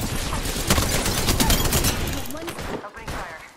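Sustained automatic gunfire in the Apex Legends video game, a loud dense stream of overlapping shots that holds for about two seconds before thinning into a few trailing bursts.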